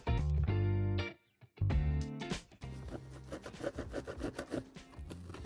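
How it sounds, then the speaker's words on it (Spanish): Sandpaper rubbing the freshly cut edge of an Opel Mokka (2012-2016) bumper, a tonal buzzing at first, then a run of quick, scratchy back-and-forth strokes close up, with no voices. "Con la ayuda de una lija, remataremos el recorte y el acabado final se lo daremos con la ayuda de un estropajo de fibras."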